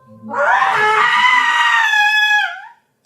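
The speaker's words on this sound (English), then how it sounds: "A scream sounded through the night in this place." In an audio story set at night in a palace, a single long, piercing scream holds loud and steady for about two and a half seconds, then cuts off.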